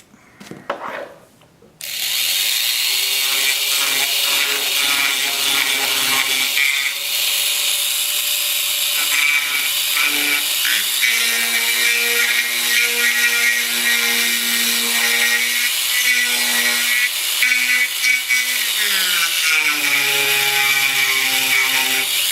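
A power tool cuts wood parts for a Skymaster Avanti XXL model aircraft build. A steady, loud whining buzz runs without pause for about twenty seconds after a few brief knocks, its pitch shifting slightly as the cut proceeds.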